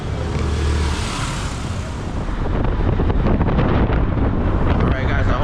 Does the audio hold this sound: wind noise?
yes